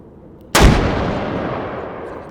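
A single loud rifle shot in the H3VR virtual reality game blows out a window, with a sharp crack followed by a long, fading echo and no talking.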